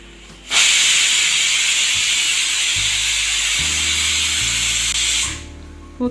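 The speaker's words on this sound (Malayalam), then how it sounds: "കുക്കറിന് ഒരു വിസിൽ വന്നിട്ടുണ്ട്" A pressure cooker whistle, cooking sweet potatoes, lets out a loud, sustained hiss of steam for several seconds, then stops abruptly, with low kitchen hum underneath.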